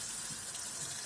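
A bathroom faucet running at full flow, a steady close hiss of pouring water with no voices.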